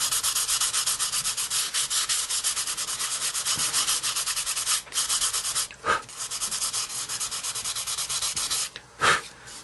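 Fiberglassed balsa model parts are sanded by hand in steady, close back-and-forth rasping strokes with a couple of brief pauses and bursts near the end.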